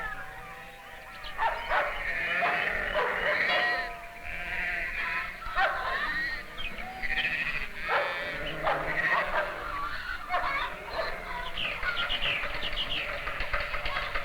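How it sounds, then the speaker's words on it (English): Many goats let out of their night enclosure bleat and call over one another, a busy, continuous chorus of animal cries close by. "Our goats are let out of their night enclosure."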